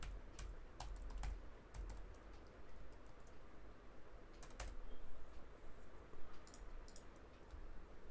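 Fingers type a password on a computer keyboard, a quick run of close, crisp key clicks in irregular bursts over a soft steady room hum, with no voices.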